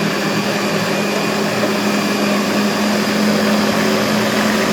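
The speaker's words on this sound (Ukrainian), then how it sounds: "Заклали в чашу блендера і включаю" A blender whirs steadily at maximum power while pureeing eggplant, a loud continuous motor drone with a bright mechanical whine that holds constant throughout, with no other sounds.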